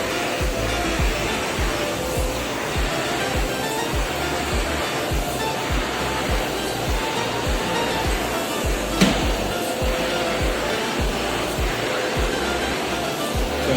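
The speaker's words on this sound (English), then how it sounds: "And now we are vacuuming all the old poly out." Vacuum cleaner pulling old polyurethane dust off a hardwood floor during a screen-and-recoat job, a loud, steady broadband roar with pulsing low rumble throughout and one brief knock partway through.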